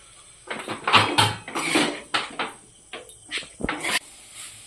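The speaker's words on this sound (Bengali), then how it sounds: "মিক্সড সসে যে পাস্তা ভিজিয়ে রেখেছিলাম সেই বাটিটা ধুয়ে একটু জল দিয়ে দিচ্ছি" A bowl that held pasta soaked in mixed sauce is rinsed and topped up with a little water, giving a series of close splashy pours and clinks of the bowl in uneven bursts, with no talking.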